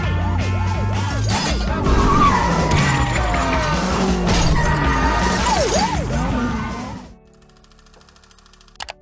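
In a film scene, tires skid and a car crashes with shattering glass over loud music and sirens. The loud, dense mix cuts off abruptly to near silence with a faint final tap.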